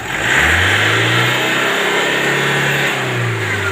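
A remapped Toyota Commuter van engine with a freshly cleaned intercooler revs up to around 3,000 rpm and holds there, a loud, steady, close-up drone with a low rumbling tone that dips slightly near the end.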